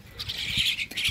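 A Jalak Hongkong (hill myna), sold as a hybrid songbird, gives a short burst of bright, harsh calls close by, with a couple of quick squawking notes.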